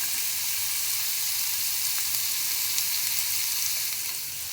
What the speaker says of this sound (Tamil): கொஞ்சம் எண்ணெய் விட்டு இப்போ இதை வதக்கி எடுத்துக்கலாம்.